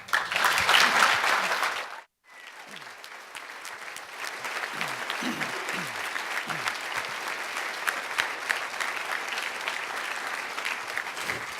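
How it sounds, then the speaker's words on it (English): Audience applause at a Taste of Love program event, a dense burst of clapping that breaks off abruptly, then resumes as a steadier, slightly softer round of clapping with a few voices underneath. "Give them another huge round of applause."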